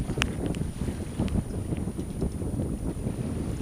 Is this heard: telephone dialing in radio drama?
no